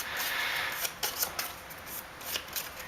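Soft papery riffling and slapping of playing cards being shuffled up close, with a few crisp snaps in quick succession.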